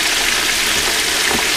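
A whole chicken deep fries in peanut oil in a Masterbuilt fryer, a loud, dense, continuous bubbling sizzle heard up close with no talking.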